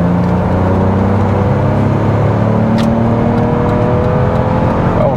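A BMW Z3's naturally aspirated six-cylinder engine revs loudly and steadily up close, its rising harmonics climbing through the run with no talk over it.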